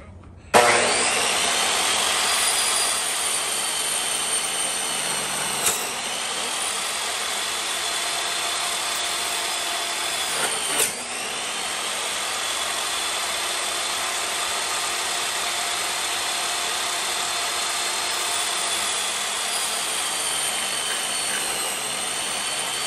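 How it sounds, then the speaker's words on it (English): A power saw cuts a piece of material while a dual battery system goes into a Ford Transit van. It makes a loud, steady whine that runs almost the whole time with no talking, and two brief bumps break in partway through. "сейчас вырежем на пиле еще вот такой кусочек"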